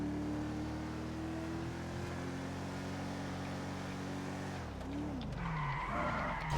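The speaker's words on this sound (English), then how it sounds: "I cannot drift in this new handling line quite yet" Car drifting with squealing, skidding tires on a runway in a police-training driving game, a steady engine tone under continuous tire noise that swerves and wavers near the end; no talking.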